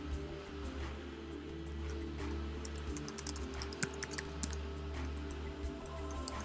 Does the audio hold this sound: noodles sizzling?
no